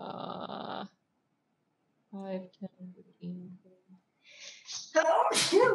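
A single sharp sneeze bursts out near the end, after quiet stretches of talk around a tabletop game of Dungeons & Dragons.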